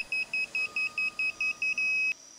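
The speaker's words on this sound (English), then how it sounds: "Both LED and buzzer will activate when the data is acquired and the cycle ends." A Series 7000 digital torque wrench buzzer signals the end of a tightening cycle with a run of about ten evenly spaced, steady electronic beeps, then one longer tone that cuts off, loud and clear with no voices.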